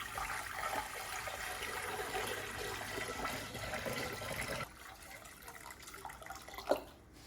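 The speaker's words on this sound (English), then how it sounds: "we're going to fill this up with some hot water" Hot water pours from a tap into a canning pot holding jars, a steady rushing flow that cuts off partway through and leaves quieter drips and a faint clank.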